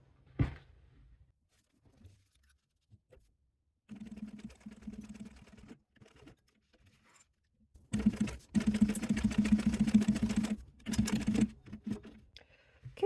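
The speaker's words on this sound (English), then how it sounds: "Now we will go to the sewing machine, and we are gonna do the sides." A sewing machine stitches fabric in short bursts, a steady mechanical whir that starts and stops, quiet between runs and louder toward the end.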